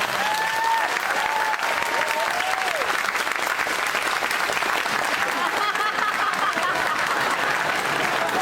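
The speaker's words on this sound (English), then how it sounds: "let's give them one more round of applause" Sustained applause from a ceremony crowd honoring inductees at a high school hall of fame event in Downey, steady dense clapping throughout with a faint whistle or cheer early on.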